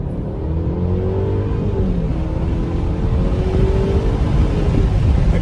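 A 2020 Mercedes C300 accelerates in a short pull, its engine droning steadily and rising gently in pitch, heard from inside the car with no talk.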